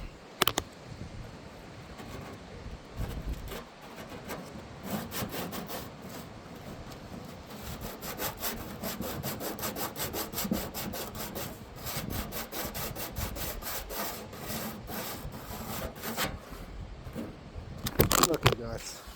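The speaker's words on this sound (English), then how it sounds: "So I had to get two hands to sand that really good." A rusty appliance part is sanded by hand in rapid back-and-forth strokes. The scraping is close and continuous, growing more vigorous near the end.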